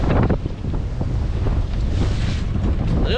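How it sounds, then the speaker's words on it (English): Gusty wind buffets a sailboat under way with the mainsail let out, a loud, steady roar of wind noise over the microphone with water and hull sounds mixed in, broad and continuous throughout. "A little gusty."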